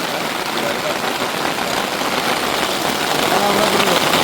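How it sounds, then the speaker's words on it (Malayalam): Heavy rain pours down in a dense, even hiss that stays loud and unbroken throughout. "നല്ല മഴയാണ്"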